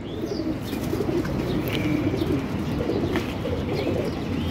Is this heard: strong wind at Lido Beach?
no